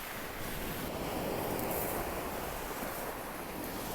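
Waves and wind on a UK beach, a continuous broadband wash of surf with gusting wind buffeting the microphone, fairly faint and steady, with no voices.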